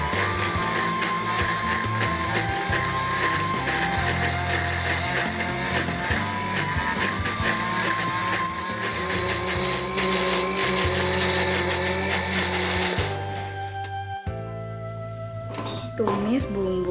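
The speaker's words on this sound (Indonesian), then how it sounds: "Blender sampai halus." A kitchen blender grinds spices with a little oil until smooth, a loud, continuous, harsh motor whir that holds steady for most of the time, then cuts off near the end.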